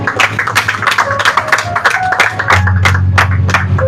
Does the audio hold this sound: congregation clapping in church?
yes